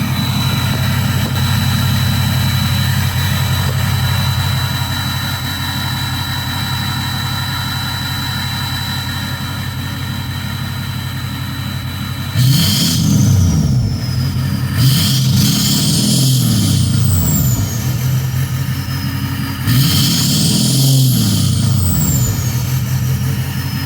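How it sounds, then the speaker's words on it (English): A car engine, which had been idling roughly, ticks over steadily and then is blipped three times. Each rev swells loud and clear before dropping back to idle. "So let me give a couple revs and tell me what you guys think."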